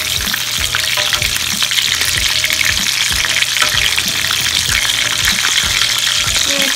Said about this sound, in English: Let some of that fat cook down